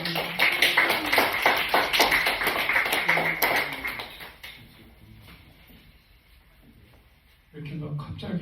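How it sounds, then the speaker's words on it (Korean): An indoor audience at the opening ceremony of a Buddhist international dharma propagation group claps to welcome a monk, a dense, fairly close patter of applause that fades out after about four seconds, followed by a pause and then a voice speaking. "큰 박수로 맞이해 주시기 바랍니다."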